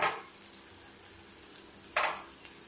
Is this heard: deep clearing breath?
no